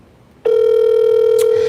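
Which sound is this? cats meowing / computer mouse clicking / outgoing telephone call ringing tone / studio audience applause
outgoing telephone call ringing tone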